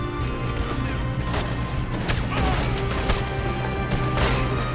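Rapid gunfire from a train robbery shootout in the video game Red Dead Redemption 2, with dense overlapping shots and crashing impacts over a steady loud backdrop.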